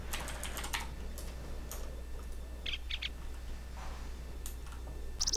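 Computer keys clatter in quick bursts, a flurry of fast clicks at the start, then sparse taps and a short cluster later, close up over a steady low hum.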